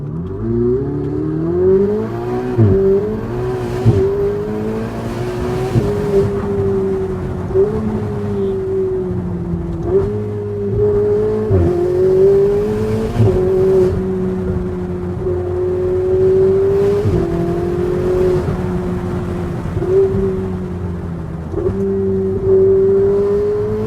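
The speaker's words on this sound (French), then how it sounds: "on se trouve à bord de ma nouvelle Ferrari 488 Spider décapotable" A Ferrari 488 Spider convertible drives with its engine humming steadily and rising in repeated revs and gear shifts, heard up close from on board with no talk.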